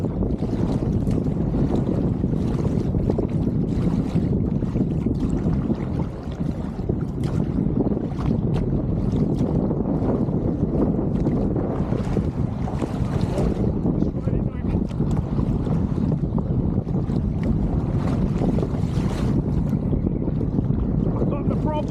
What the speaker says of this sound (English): the wind's been coming up and getting stronger and stronger and stronger